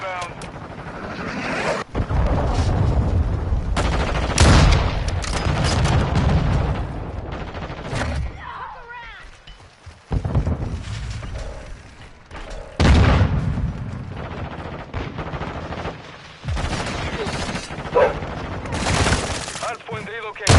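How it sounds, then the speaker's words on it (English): Cruise missile strike in Modern Warfare 2 sets off a chain of heavy, booming explosions mixed with scattered gunfire, loud and close, rolling in several bursts with short lulls between them while a game voice talks over the battle. "Friendly cruise missile inbound."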